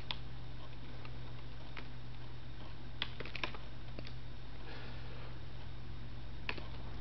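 Light clicks of a computer keyboard sound faintly and sparsely at close range over a low steady hum, scattered taps with a short flurry near the middle.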